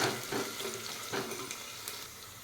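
Ginger-garlic paste frying with onions in a pan, a constant sizzle broken by a few soft stirring scrapes, close and fairly loud.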